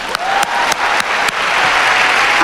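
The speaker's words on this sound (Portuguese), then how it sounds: "Aplaude sem inveja, gente." A church audience breaks into loud, sustained applause, with a few sharp individual claps standing out in a regular beat early on, then the sound settles into a steady wash of clapping.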